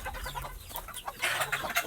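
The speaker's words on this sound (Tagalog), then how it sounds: "Nagkakagulo na naman ang mga manok." Several chickens cluck and squawk in an agitated jumble, fairly faint and somewhat distant, growing busier toward the end.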